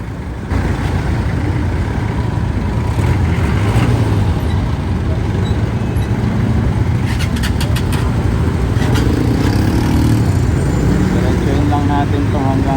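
Busy street traffic in Divisoria, Manila, where jeepneys and buses stop to load passengers: a continuous roar of cars, trucks and buses with engine rumble and passing vehicles, steady and fairly loud throughout, with some voices in the mix.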